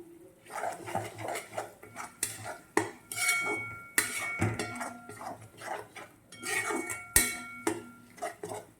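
A spoon scrapes and clinks against a metal pan in rhythmic stirring strokes while pav bhaji masala is mixed in, close and fairly quiet, with no talking.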